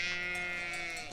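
A sheep on a farm at lambing time gives one long, steady bleat that is close, loud and clear, with no talking over it.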